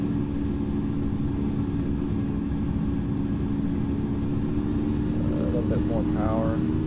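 Airplane engines roaring at takeoff power in the Infinite Flight flight simulator game, a loud, steady low drone with a constant hum that holds unbroken, while a voice speaks briefly near the end.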